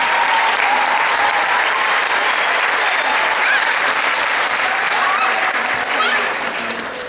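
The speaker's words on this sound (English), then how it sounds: "let's give her a round of applause." Sustained applause from a school spring concert audience, a dense, loud crowd clapping throughout with a few cheers, easing slightly at the end.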